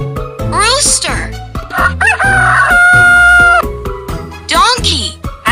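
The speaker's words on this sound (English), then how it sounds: "Rooster." Farm rooster crowing loud and close, a full drawn-out cock-a-doodle-doo in the middle framed by shorter squawking calls before and after, with no talk over it.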